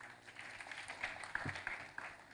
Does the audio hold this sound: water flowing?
no